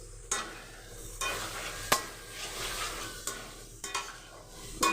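Masala for a vegetarian potol aloo curry is stir-fried with a splash of water, producing a soft sizzle broken by sharp, repeated spoon scrapes and knocks against the pan roughly every second; no one speaks.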